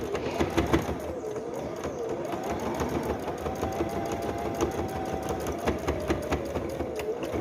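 A sewing machine stitches fabric for a Christmas advent calendar, running a steady close mechanical whir of forward stitches with a short reverse backstitch, fairly quiet and with no one talking.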